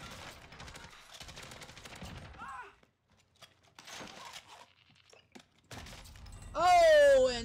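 Gunfire in Call of Duty Warzone comes in several clustered bursts of cracking shots separated by quiet gaps, ending in a loud, wavering burst, with a voice talking under parts of it.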